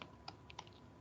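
Java code being typed on a computer keyboard: a few soft, separate key clicks in quick, uneven succession, faint and close in a quiet room.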